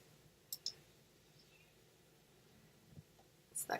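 A computer mouse clicks in a few faint, sharp taps: a pair early, a soft one later, and a quick cluster at the end, in a quiet room.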